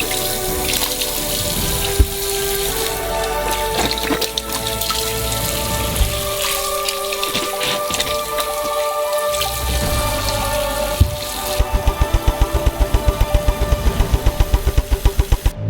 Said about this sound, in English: Fill it up with water.